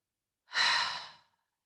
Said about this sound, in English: Exhale as if you're trying to fog a mirror.